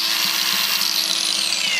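A brand new Milwaukee cordless 4.5 or 5 inch angle grinder cuts off a tack-welded metal piece with a loud, steady high whine and hiss, and no talking.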